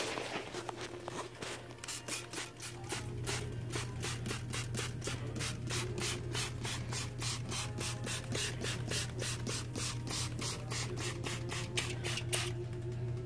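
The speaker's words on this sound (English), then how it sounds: "Now we're going to spray it." A rapid, rhythmic train of spray bursts over a steady low hum while leak-check fluid is sprayed onto a boosted system during a low-pressure leak test.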